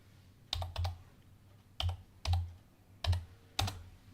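A stock ticker being typed on a computer keyboard: six sharp, close keystrokes, some landing in quick pairs, separated by short pauses in an otherwise quiet room.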